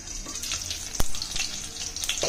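Oil spattering in a covered pan while drumstick pods fry for a Maharashtrian curry, a steady close hiss with scattered crackles and one sharp pop partway through.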